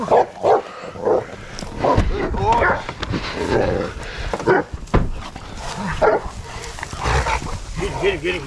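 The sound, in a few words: hunting dogs barking during pig hunt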